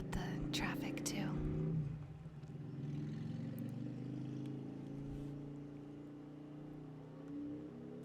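Traffic outside a room rolls past as a steady low engine drone, a vehicle's hum swelling then easing off, while soft voices murmur over it.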